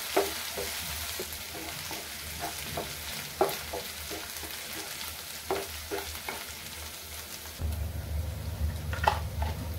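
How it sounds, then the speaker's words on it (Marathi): Masala paste for surmai fish kheema sautés in hot oil, a soft steady sizzle broken by repeated scraping stirs of a spoon in the pan, close and unhurried. "हे परतून घेते।"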